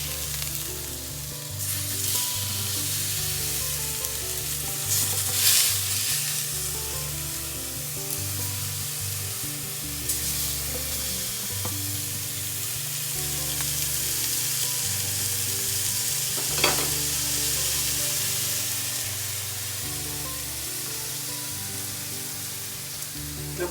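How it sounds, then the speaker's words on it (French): Cod fillets sizzling under a broiler: steady, dense frying hiss with faint crackles and pops throughout, close and continuous, with no talking. "je vais leur donner un grillage, une dorure intéressante pour finir la cuisson"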